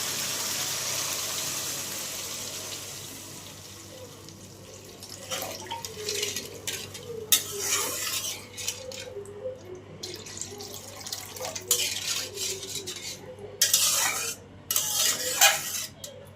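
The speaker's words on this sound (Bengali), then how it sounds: "মশলা ভালো করে কষিয়ে নিয়েছি এখন পরিমাণ মতো জল দিয়ে দিব" Water poured into fried spice masala for a rohu fish kalia, first a steady rushing pour, then the wet mixture stirred with repeated scraping clinks of a spoon against the pan.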